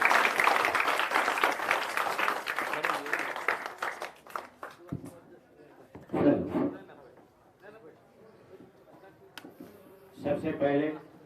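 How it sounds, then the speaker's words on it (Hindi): Crowd at a village gathering clapping to welcome a speaker, a loud burst at the start that thins and fades within a few seconds, followed by someone talking over scattered noise. "एक बार जोरदार तालियों से हम लोग स्वागत करें।"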